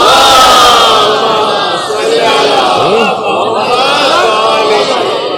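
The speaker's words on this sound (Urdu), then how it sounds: "صلوات پڑھ لیں محمد و آل محمد" A large crowd recites salawat in unison, a loud, sustained wall of voices rising and falling together, with a few distinct voices standing out.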